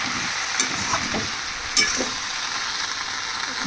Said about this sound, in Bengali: এটা নাড়াচাড়া করে পুরো যাতে ঘিটা ঠিক মতো লেগে যায়।